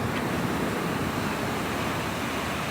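Steady broadband wash of surf rolling onto a beach in northeast Florida during spring, a constant rushing roar with no distinct breaks, close and fairly loud, with no voices.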